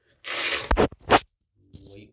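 A single sneeze bursts out close by after a sharp inhale, with a short snuffling breath following and faint rustling afterward.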